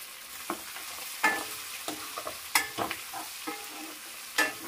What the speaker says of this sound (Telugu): ఇప్పుడు ఇది కలిపేసేసుకొని మనం చక్కగా మగ్గనిద్దామండి. కొంచెం సిమ్ చేసేసుకుందాము, మగ్గనిద్దాము.